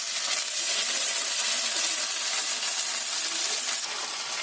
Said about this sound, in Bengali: এবার আমি আদা রসুন বাটাটা দিয়ে দিচ্ছি।